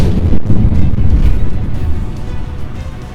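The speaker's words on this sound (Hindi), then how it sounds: "लोगों के हाथ पांव तब फूल गए जब ट्रक में धमाके होने लगे।" Loud, rumbling blasts erupt from a truck on fire, with deep booming bursts and roaring noise filling the scene, close and sustained throughout.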